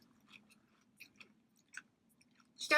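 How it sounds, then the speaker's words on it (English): Someone chews crunchy, thin canned bacon close to the microphone, giving scattered soft crunches and mouth sounds over a low steady hum. "It's definitely got the bacon crunch."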